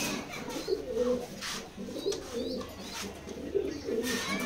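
A pair of Maxi pigeons coos close by, soft repeated throaty coos in uneven bursts, with a few higher chirps and light background noise.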